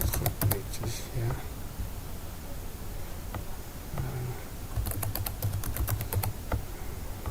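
Keys clatter on a computer keyboard in two short bursts of password entry, close and moderately loud, under a low murmur of background voices and room noise.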